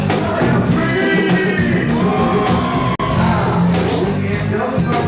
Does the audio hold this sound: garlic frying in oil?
no